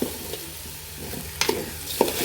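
Rice frying in a pan for homestyle chicken biryani, a low continuous sizzle under a handful of crisp spatula scrapes and knocks clustered in the second half, close by with no speech.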